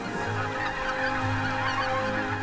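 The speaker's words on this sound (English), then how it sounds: "Barnacle geese have spent the winter in the Netherlands" Barnacle geese wintering in the Netherlands honk continuously as a dense flock at a coastal resting spot, with many overlapping calls and no voices.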